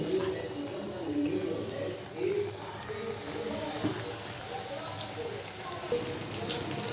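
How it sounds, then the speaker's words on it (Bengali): Flour-coated chicken pieces frying one by one in hot oil at home, a steady close crackling sizzle with a watery, hissing texture that runs throughout with no talk. "তেলে একটা একটা দিয়ে ভেজে নেবো আমি"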